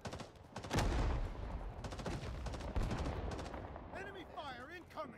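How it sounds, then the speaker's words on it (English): Gunfire from the Vietnam War video game Rising Storm 2: Vietnam, a loud crack followed by scattered, sustained shots and explosions, with a radio-like warbling tone near the end. "Enemy fire incoming."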